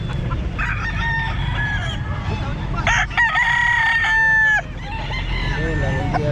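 A rooster crows at a busy pet market, with several clear crows and clucking rising over a steady crowd murmur and background chatter.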